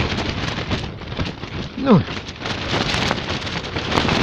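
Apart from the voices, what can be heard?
strong wind on the ice while winter fishing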